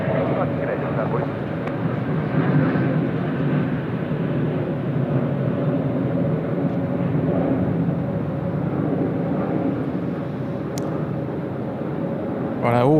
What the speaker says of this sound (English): The Qantas A321 XLR just taxiing down.